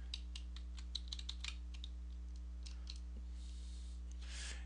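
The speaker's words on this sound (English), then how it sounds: "And then we'll type in MobaXterm." Fingers type on a computer keyboard in a short, quick burst of close, crisp key clicks, then a few scattered taps over a steady electrical hum, with no talking.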